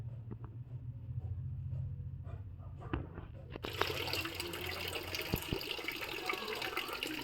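Clear spring water flows steadily from the stone spout of a pool at the Son river source in Amarkantak, a continuous close splashing trickle that grows brighter and fuller halfway through, with no talking.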